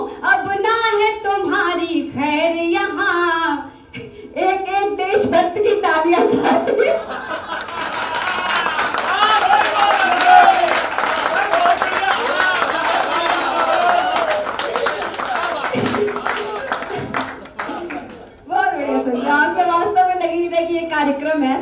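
Audience applause and clapping at a Hindi poetry recital (kavi sammelan), a dense burst of many hands rising after a poet's spoken lines and lasting about ten seconds before the voice resumes over it.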